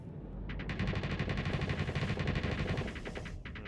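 Ship guns firing in space combat in Starsector, a rapid rhythmic stream of repeated shots over a deep rumbling bed, steady for several seconds.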